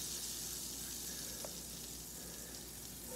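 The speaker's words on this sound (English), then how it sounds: "we're just going to put about 1 tablespoon of butter into the pan" Butter sizzling in a frying pan while making a grilled egg cheese sandwich, a steady, even hiss with no break and no voices.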